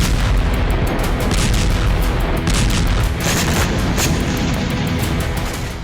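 Drone strike explosions in Moscow and Crimea, heard as a loud, dense, continuous roar of booming blasts that pile on each other with no clear gaps between impacts.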